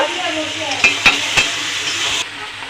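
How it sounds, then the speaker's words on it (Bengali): Fried potatoes stirred into simmering mutton curry in a pan, a steady close sizzle with a few sharp spoon clacks against the metal, then the frying noise cuts lower near the end. "আগে থেকে যে আলুগুলো ভেজে রেখেছিলাম আলুগুলোকে দিয়ে দেবো দিয়ে আবার একটুখানি কষিয়ে নেব"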